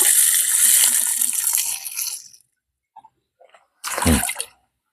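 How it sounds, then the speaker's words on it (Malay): Stored rainwater, old enough to grow moss, poured out to test for leaks: a steady splashing pour for about two seconds, a few faint drips, then one short heavy gush. "Kalau hari hujan, sekejap saya nak try siram."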